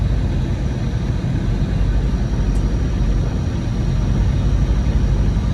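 An Anugerah 88 bus on the Surabaya route inches forward toward a shelter, its engine a loud, constant low rumble and drone heard from inside the cabin, with no talking.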